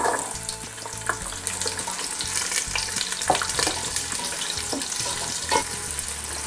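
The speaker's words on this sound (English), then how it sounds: "Now you can add your onions." Chopped onions frying in hot oil with curry leaves, green chili and garlic for a Madras-style crab curry, a steady bright sizzle with occasional soft stirring knocks, heard over low background music.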